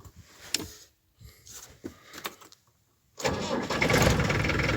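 A 13-year-old Suzuki DRZ 250 motorcycle makes a few clicks and short cranking attempts, then its engine catches and settles into a loud, steady idle.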